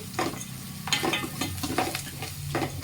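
Jaggery added to a frying tempering of onions and ginger garlic paste, a continuous close sizzle broken by several brisk stirring scrapes.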